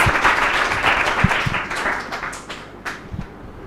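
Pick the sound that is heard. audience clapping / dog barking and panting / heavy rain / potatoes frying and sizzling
audience clapping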